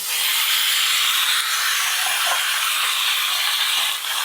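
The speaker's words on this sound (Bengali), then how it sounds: "এবার কালো জিরে কাঁচা লঙ্কার সাথে বেগুন আর আলু খুব ভালো করে একটু ভেজে নেব" Eggplant and potato frying in hot oil with nigella seeds and green chilli, a loud, steady, hissing sizzle that runs unbroken with no talking.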